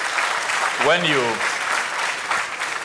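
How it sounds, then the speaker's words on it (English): An audience at a conference of heads of mission and envoys in Ghana applauds in a steady, loud round, with a voice briefly calling out over the clapping. "So another round of applause."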